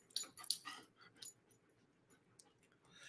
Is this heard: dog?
yes